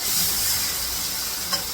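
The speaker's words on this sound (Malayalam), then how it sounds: "ഇതെല്ലാം കൂടി ഇട്ട് കടുക് വറുത്തു" Mustard seeds sizzling in hot oil, a loud even hiss for the whole short stretch with one small pop near the end.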